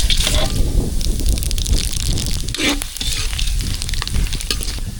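Spices sizzling in hot oil for thalicha tempering, a loud continuous crackling fry with stirring scrapes and a brief sputter partway through, close up.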